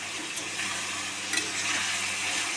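Green chillies fry in a pan of vegetables, giving a steady, fairly soft sizzle with light stirring scrapes and a brief louder crackle partway through, with no talk.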